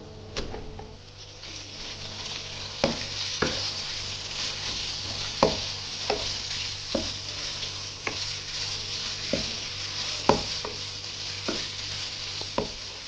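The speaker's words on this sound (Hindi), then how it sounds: "अब चिकन को वाइट होने तक इसमें फ्राई कर लेना है।" Boneless chicken strips fry with garlic in a pan for chicken Hakka noodles, giving a steady sizzle under repeated sharp knocks of a spatula against the pan every second or so.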